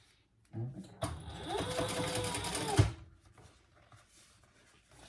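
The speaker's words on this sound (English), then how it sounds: "And top stitch that with the seam going towards the bottom." A sewing machine top stitching a seam on a fabric fish pouch, a close, steady whirring run of about two seconds after a brief start, ending with a thump as it stops.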